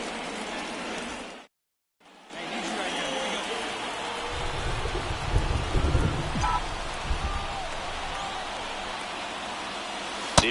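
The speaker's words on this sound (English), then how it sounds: "This rain is not letting up." Steady heavy rain hisses throughout a ballpark in the baseball video game MLB The Show 24, briefly cutting out near the start, with a low rumble building in the middle.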